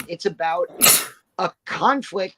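A single sharp sneeze bursts out between stretches of conversational speech during a live film review.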